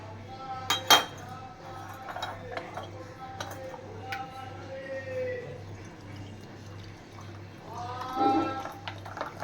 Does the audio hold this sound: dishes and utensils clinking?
yes